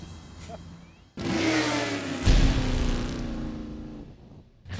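A Victory motorcycle cruising: a loud, steady engine drone rises abruptly and holds for about three seconds, its pitch easing slightly lower, then drops away again, with no voices.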